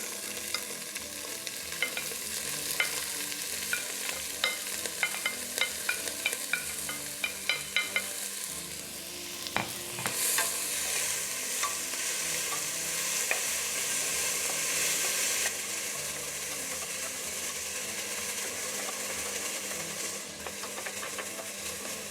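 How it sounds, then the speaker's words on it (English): Onion and seasonings frying in a pot as the base for a fish soup: a steady, close sizzle that grows brighter and fuller midway, with scattered scraping and clicking stirs throughout and no voices. "So I'm going to add in the onion."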